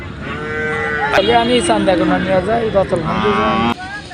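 Bull calves and other cattle at the Hanshkhali cattle market give a long, loud, close moo with drawn-out tonal bellowing, over background crowd voices.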